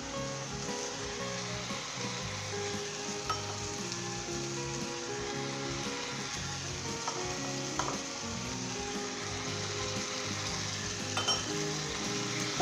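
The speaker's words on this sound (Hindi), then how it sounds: "इसे स्टर फ्राई करेंगे तेज़ आंच पे" Carrot and chicken stir-frying over high heat with chili sauce, lemon juice and ketchup, a steady loud sizzle with light stirring scrapes running throughout, no voices.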